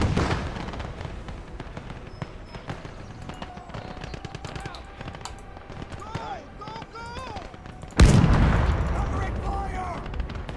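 Machine gun fire in a WW2 battle video game, rapid bursts crackling against distant battlefield rumble, with a sudden heavy explosion near the end; a voice talks over the combat.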